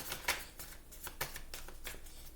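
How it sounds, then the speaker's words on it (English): Tarot cards shuffled by hand without bending, a quick series of soft riffling bursts at a steady rhythm, close and quiet, with no one speaking. "That's why I shuffle how I shuffle."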